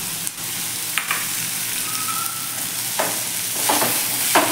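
Cut pumpkin pieces sauté in a pan with a soft continuous sizzle, interrupted by several sharp stirring knocks and scrapes of a spoon against the pan.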